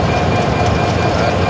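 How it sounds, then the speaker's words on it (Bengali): A Bangladesh Railway train, the Karnaphuli Express, pulls out of Kamalapur station in Dhaka, a loud, dense, continuous rumble and roar of rolling cars heard close by. "আর পাশাপাশি আরেকটি ট্রেন ছেড়ে যাচ্ছে, কর্ণফুলী এক্সপ্রেস, চিটাগাংয়ের উদ্দেশ্যে ছেড়ে যাচ্ছে।"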